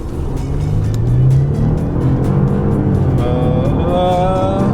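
A car engine pulling hard and rising in pitch as it accelerates, loud and close, with road noise throughout.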